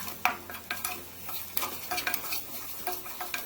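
A spoon stirs and scrapes through sweet roll filling roasting in a pan with sugar and cardamom powder, giving a soft continuous sizzle broken by irregular close scraping strokes.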